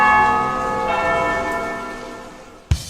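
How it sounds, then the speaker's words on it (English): Noon church bells toll for the Angelus, a loud sustained ringing with a long resonant decay, ending with a couple of sharp knocks. "When you hear the noon bells tolling, it's time for Angelus"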